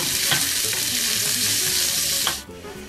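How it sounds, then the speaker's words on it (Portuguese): Fresh sausage fries in a pan with a steady, loud broadband sizzle, a couple of sharp pops standing out before the frying drops away near the end. "Enquanto a salsicha frita"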